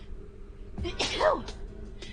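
One sharp, close sneeze bursts out after a short quiet intake of breath, loud and abrupt, then fades into faint room noise.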